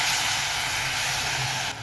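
Soaked moth bean dal, salted, is sautéed in a hot pan, giving a loud, steady hiss of sizzling that holds evenly over a couple of seconds before easing slightly.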